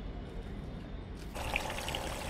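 Water runs into a small tub, a steady low trickle and pour that grows a little fuller partway through, heard close and alone at a quiet level.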